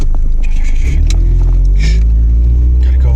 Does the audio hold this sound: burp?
no